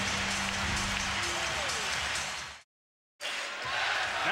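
Loud basketball arena crowd cheering during the third quarter of an NBA playoff game between the Golden State Warriors and Dallas Mavericks, a dense roar that cuts off abruptly, drops to silence, then resumes.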